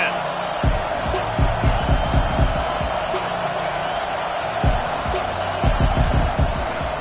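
Stadium crowd noise in a College Football 25 simulation of Ole Miss vs Florida, a steady roar under game audio with repeated low thumps, swelling slightly at times during a third-down play.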